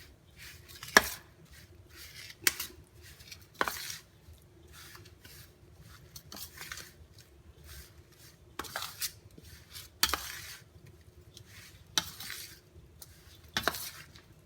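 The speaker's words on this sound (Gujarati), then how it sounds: "ગોળ એકદમ ઓગળી ગયો છે. આ સ્ટેજ ઉપર એકદમ નાખી દેવાનો. તરત હલાવી નાખવાનું." Jaggery fully melted and poured into churma ladoo mixture, stirred at once with a utensil, making irregular scraping clinks and knocks against the pan at a moderate distance, with no talking.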